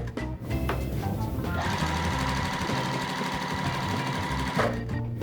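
A sewing machine stitches a quilt seam, its rapid, even needle clatter running steadily for several seconds after a short start and stopping near the end, close and alone.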